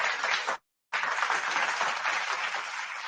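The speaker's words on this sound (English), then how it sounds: "Let me get that an applause." Audience applause breaking out for a couple married 25 years, a steady wash of clapping that cuts out briefly to silence before resuming just as full.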